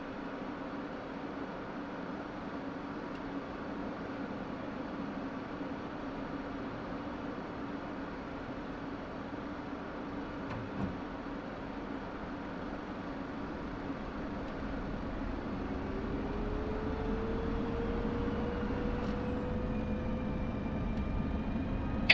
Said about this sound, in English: Sword 2-1 starting engine.